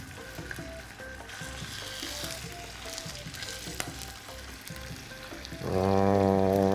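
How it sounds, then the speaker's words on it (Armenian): Washed and dried chicken thighs fry skin-side down in a pan with a steady, close crackling sizzle throughout, joined near the end by a louder sustained tonal hum. "սկսում ենք տապակել։"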